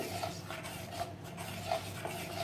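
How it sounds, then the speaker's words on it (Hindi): Half a spoon of salt being mixed into idli batter: a close, steady, wet scraping and swishing of a spoon through thick batter, with soft periodic knocks against the bowl. "अब मैं इसमें आधा चम्मच नमक डाल के इसको अच्छे से मिला लूँगी"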